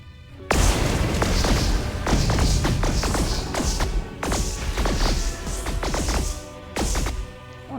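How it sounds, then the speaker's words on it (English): Missile fire and impacts in the space combat game Star Hammer: The Vanguard Prophecy, a rapid series of loud booming thuds and crashing blasts with bursts of explosive debris, close and dense throughout. "Fires off one of its remaining missiles"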